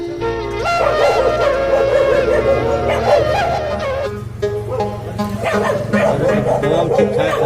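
Dogs fighting in Butwal, Nepal, yelp and bark continuously and loudly, with people's voices mixed into the noise.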